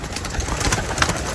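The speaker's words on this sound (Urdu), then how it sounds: "یہاں پر میں نے جو ہے مختلف بریڈز کے کبوتر جو ہیں وہ پالے ہوئے ہیں" Teddy-breed pigeons cooing inside a rooftop cage, soft low coos repeating in an uneven rhythm, close by and steady with no voices.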